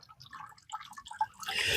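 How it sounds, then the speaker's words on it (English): Water drips from a soaked potted plant held up after soaking until the bubbling stopped. Soft, scattered drips patter close by, then a louder, fuller splash of running water at the end. "Let it drip dry for a little while."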